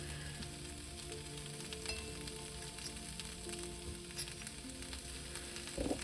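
Diced onions fry in a pan with an even, moderate crackling sizzle that holds steady throughout, and a brief knock right at the end.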